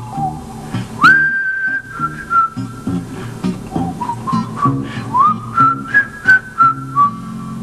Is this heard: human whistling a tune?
yes